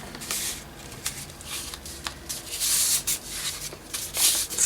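Paper being folded into thirds for a journal, with repeated crisp rustles, creases and rubbing sounds close by, no talking.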